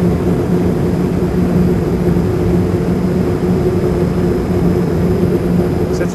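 A steady, loud broadband rush of wind noise over a Yakima round roof bar in a wind tunnel, with a low hum running underneath and no change for the whole stretch.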